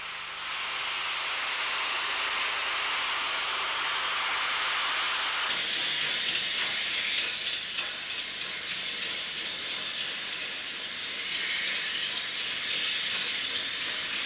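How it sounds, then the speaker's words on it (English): Class 9F steam locomotive 92203, carrying a commemorative headboard, hauls the last 9F ore train out of Birkenhead in 1967, heard as a steady, rushing hiss and rumble that shifts in tone partway through and carries on alone. "For the last 9F hauled ore train of all, on November the 6th, 1967, Birkenhead Shed turned out 92203 with commemorative headboard."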